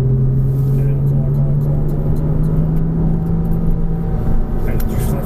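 A car accelerates on a racetrack, its engine droning steadily and loudly with a sustained rising tone while a driving instructor talks over it.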